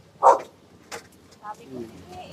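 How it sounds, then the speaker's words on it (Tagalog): A large dog gives one loud, close bark, followed by softer yips and whimpering sounds, with people talking around it. "May napakalaki aso."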